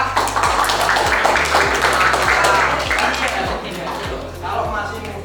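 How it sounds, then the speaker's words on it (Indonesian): An audience at a Yamaha safety riding event in Madiun applauds, a loud continuous clatter of many hands with a low rhythmic thumping underneath, tapering slightly toward the end. "tepuk tangan ya"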